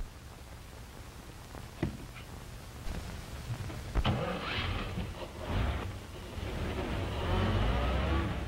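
A car drives along with a steady, muffled engine and road rumble that swells toward the end, broken by a few soft knocks and thuds.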